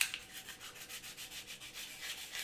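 Steady hand sanding of wood at a workbench, a rhythmic back-and-forth rasp of abrasive on the surface with regular strokes, close and fairly quiet, with no talking.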